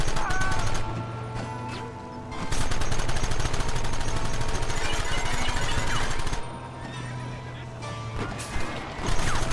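Horses neighing amid the chaos of a gunfight in the Western video game Red Dead Redemption, whinnies rising over a long, dense stretch of rapid gunfire and crashes, with voices briefly heard.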